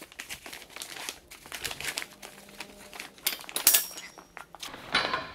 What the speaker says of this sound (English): putting the side rails back through the side of the cot top fabric